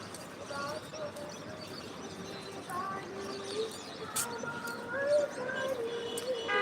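Migratory birds gathered along the Narasunda river, a busy chorus of cooing and chirping calls over a constant outdoor murmur, with voices talking in the background.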